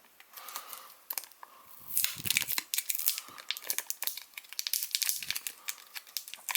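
Crinkling and tearing of the plastic wrap on a new, sealed Wacom Bamboo Ink Plus pen box, close and loud, with dense irregular crackles and rips running throughout without a pause.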